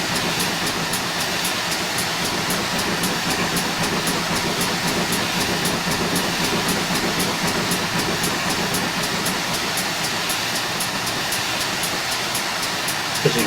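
GWR Hall steam locomotive in a train simulator game, running on the West Somerset Railway heritage line: a steady, continuous rumble and hiss with faint regular chuffing throughout, fairly loud and even, no talk.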